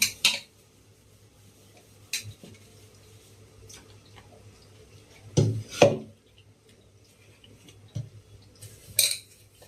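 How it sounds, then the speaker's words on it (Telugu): Dishes being washed in a home kitchen, a few sharp clinks and clatters of pots and utensils spaced out over quiet, with a faint steady hum beneath and no talking. "ఇటు వచ్చి అంట్లు కడిగేస్తాను"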